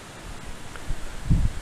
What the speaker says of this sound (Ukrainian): піднявся вітер такий зненацька.